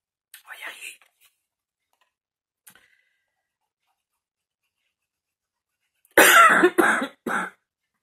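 A person's coughing fit, a couple of loud harsh bursts close by, after quiet with faint earlier rustling.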